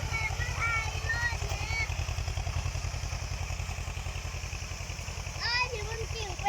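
A small tractor engine chugs steadily at low revs, plowing soil after rain nearby, while people talk over the noise.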